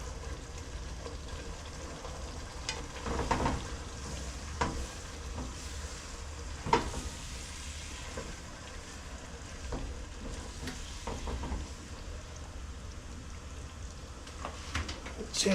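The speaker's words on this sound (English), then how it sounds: "I kind of just let it simmer. Well, not just simmer, because I constantly stir it around." Sauce simmers in a pan with constant stirring, a low steady bubbling sizzle under scattered soft scrapes and taps of the utensil, fairly quiet and close.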